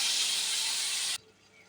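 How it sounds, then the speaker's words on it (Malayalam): Vinegar is poured into hot fish pickle, giving a loud, steady sizzling hiss that lasts just over a second and then cuts off abruptly, leaving quiet background. "അവസാനം കുറച്ച് വിനാഗിരി കൂടി ഒഴിച്ചു കൊടുക്കാം"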